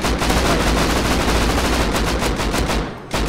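Rapid gunfire in the survival game Rust rattles out in a dense, loud, continuous burst, then cuts off briefly near the end before resuming.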